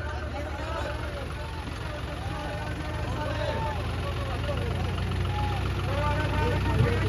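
Tractor engines, a John Deere 5210 against a Sonalika DI 35, drone at a tochan pulling tournament in Rohtak, a steady low rumble that grows slightly louder beneath constant crowd chatter and shouting.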